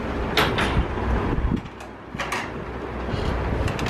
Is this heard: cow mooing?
no